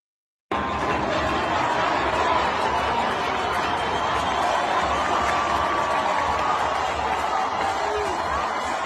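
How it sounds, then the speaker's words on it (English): A huge crowd at a street protest, a dense, continuous roar of many voices that stays loud and constant throughout. "Huge crowd."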